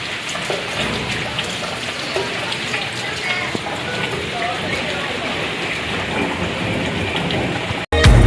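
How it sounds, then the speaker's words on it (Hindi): Steady rain pours down outdoors during a storm, a dense hiss of drops on surfaces lasting throughout, with a faint voice in the background and a brief loud bump at the end. "बारिश भी हो रही है"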